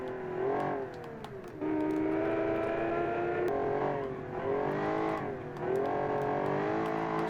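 A classic 1960s Italian sports car in BeamNG.Drive revs steadily, its engine note rising and falling in repeated surges over several seconds while oversteering, loud and continuous with no talking.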